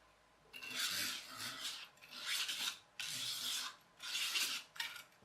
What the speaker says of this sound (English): You'll have to drill it a slightly different size to make it the right size for your axle.